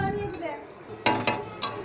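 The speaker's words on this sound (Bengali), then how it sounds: "এবার আমি গামলিটা চাপা দিয়ে দিলাম।" A bowl is set down over a cooking pan of bottle gourd and spinach curry, giving three short, sharp clanks about a quarter to half second apart over a low kitchen background.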